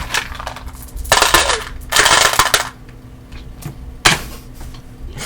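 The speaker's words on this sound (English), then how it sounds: "just a waterfall of dice" Several dice clatter and spill onto a tabletop during a Lancer tabletop RPG session, in a few loud rattling bursts with short pauses between them and a final sharp clack.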